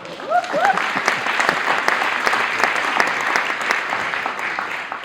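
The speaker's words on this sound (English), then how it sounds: "just give yourself a little bit of a round of applause for being all in space together" An audience at a civic gathering on multiracial democracy applauds with steady, dense clapping, a few sharp individual claps and a brief whoop standing out near the start.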